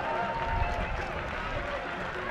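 Crowd at the IFSC Climbing World Cup bouldering semi-finals in Innsbruck cheers and claps steadily for climber Jonas Baumann, a dense wash of applause with a commentator talking over it.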